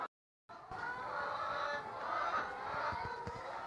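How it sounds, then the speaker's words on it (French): Chickens on a farm cluck and call in a steady, moderately close chorus that runs continuously after a brief silent gap at the start. "les poulets le suivent un peu partout puisqu'ils sont déjà habitués avec lui."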